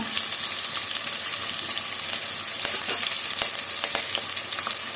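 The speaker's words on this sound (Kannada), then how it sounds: "ಚೆನ್ನಾಗಿ ಫ್ರೈ ಮಾಡ್ಕೊಳ್ಳೋಣ ಇವಾಗ ಕರಿಬೇವು ಸೇರಿಸ್ಕೊಳ್ಳೋಣ" Curry leaves frying in hot oil make a dense, even hiss and crackle close by, with scattered sharp pops and spatters across the whole stretch and no talking.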